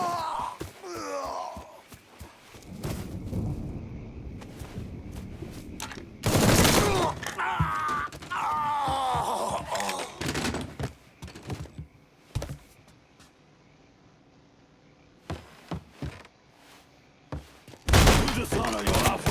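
Gunfire in the Mafia III video game, with bursts of shots and loud impacts scattered among shouted voices and game sounds, some volleys near and loud, others brief.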